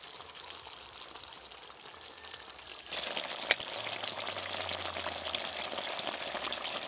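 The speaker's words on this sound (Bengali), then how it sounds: "নামানোর পরও এখনো কিন্তু ফুটছে," Steamed snakehead fish with raw mango keeps bubbling in its pot after coming off the heat, a quiet steady gurgling hiss that swells louder partway through, with one sharp tap.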